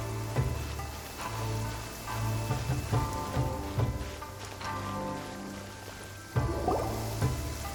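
Rain falling in the Genshin Impact game world, a steady wash of drops and patter under sustained musical tones, with a few sharper splashes and clinks, no talking.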